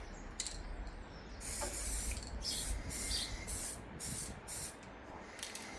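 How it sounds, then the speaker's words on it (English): Bursts of hissing spray come and go in short pulses over a low background rumble, fairly close, with no one talking. "let's get started and get spraying"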